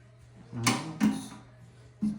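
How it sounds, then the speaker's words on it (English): A Megatoad feeder's door is opened: two close, clattering mechanical clunks, then a softer knock a moment later, over a low steady hum. "This is the door. This opens up."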